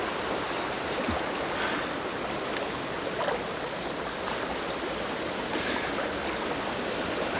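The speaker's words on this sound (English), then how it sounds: "The sound of the river used to put it to sleep." A river flows steadily past a house, a broad unbroken rushing wash of water that stays constant and fairly close, with no talking.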